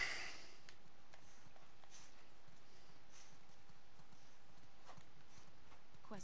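Horse hooves from The Last of Us Part II clip-clop at a walking pace, a quiet, fairly steady series of soft hoof strikes on the ground under a low, constant background hiss, with no talk.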